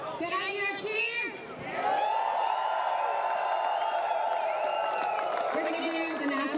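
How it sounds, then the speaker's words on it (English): A crowd at a pro paintball finals cheers and whoops loudly, a sustained roar of voices with a held tone on top, after a few seconds of talk. "Can I hear a cheer?"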